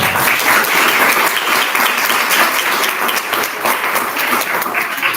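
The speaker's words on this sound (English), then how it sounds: "Let's give our candidates a round of applause." Loud, sustained applause fills the room for candidates at a college Mister Freshman pageant speak-out, many hands clapping densely and evenly throughout.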